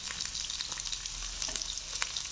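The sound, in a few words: sautéing garlic, ginger and green chili in a pan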